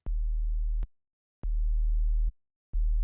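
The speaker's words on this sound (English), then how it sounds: "So I'm going to load a sine wave on both this sub and oscillator A." Pure sine wave synth tones from Serum, three plain low steady notes with gaps of silence between them, clean and quiet with clicks at each start and stop.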